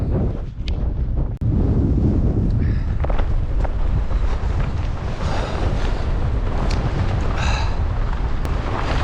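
Strong, gusty wind on a mountain road during a bikepacking trip from Trabzon toward Gümüşhane. Loud, continuous roaring buffets the microphone, with brief lulls and a few sharp knocks.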